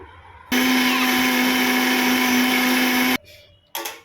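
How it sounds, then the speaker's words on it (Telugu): A kitchen mixer grinder runs at full speed, grinding peeled, cut onions into a paste for a fish curry. It starts abruptly with a loud, steady whine, cuts off after about three seconds, then bursts briefly on again. "ఇప్పుడు వీటిని మంచి పొట్టు తీసేసి మిక్సీ పట్టేస్తాము"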